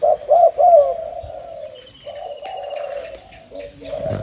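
A large caged dove coos close by in deep, rounded repeated calls, first in a few distinct bursts and then in a lower, steadier run of cooing over faint background noise.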